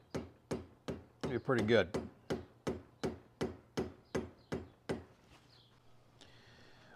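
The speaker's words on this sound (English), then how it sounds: "Just kind of drive right in, kind of with a rubber mallet." A rubber mallet drives a part into a Holley 4000 four-barrel carburetor with about a dozen evenly spaced, sharp taps, close and loud, and someone briefly speaks partway through.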